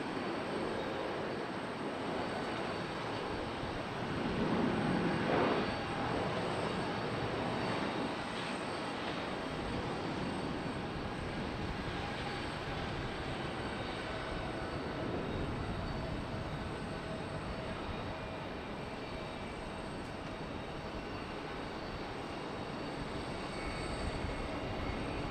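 An airliner arrives at Charlotte Douglas airport, a steady distant jet rumble running at an even, fairly faint level throughout, with no talk.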